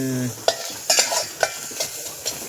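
Chopped onion dry-roasting in a pan with no oil, stirred with a utensil that gives sharp scraping knocks roughly every half second over a faint, steady background hiss; close and moderately loud, no talking.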